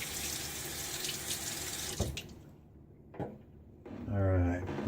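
Tap water runs into a sink to rinse after shaving, a steady close gush that cuts off partway through, then short splashes and a burst of flow near the end.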